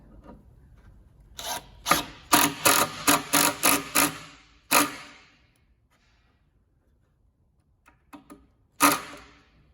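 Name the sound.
driving the last screw into a plywood desk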